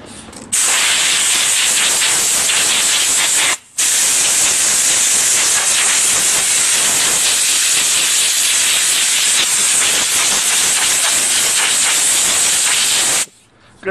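Compressed air blasting through a Briggs & Stratton lawn mower air filter: a loud, steady hiss running about three seconds, a brief cutoff, then nearly ten more seconds of continuous blowing before it stops.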